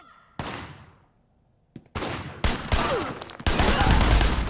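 Gunfire in the Sleeping Dogs video game: a sharp shot with a long ringing tail, a brief lull, then several rapid bursts that build into dense, loud, continuous firing.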